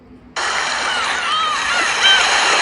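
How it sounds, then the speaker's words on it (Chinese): A seaside sound effect kicks in abruptly: a steady wash of flowing water fills the space, while a couple of seagull cries rise and fall above it before it grows slightly louder. "这时候有很多关于海边的声音"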